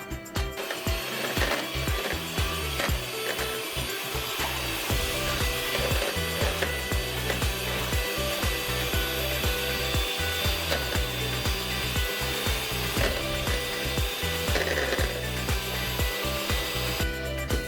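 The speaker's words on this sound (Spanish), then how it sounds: "Y ahora es tiempo de batir, lo cual vamos a hacerlo durante 4 minutos seguidos. Velocidad baja." Liquid ingredients for a dairy-free, egg-free, butter-free baking batter are beaten at low speed, giving a loud, steady mechanical whirr with a grinding, rattling texture that runs unbroken through the whole stretch.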